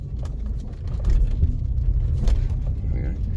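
A Rover 25 GTI with a manual gearbox drives along, its engine giving a steady low rumble under continuous road noise at close range.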